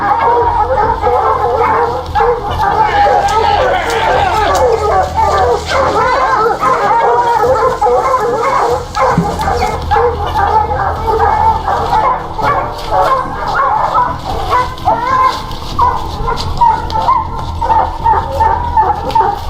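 A pack of hunting dogs on a bear hunt, barking, yipping and whimpering in a dense, continuous outdoor chorus, loud and close, with some human voices faintly mixed in.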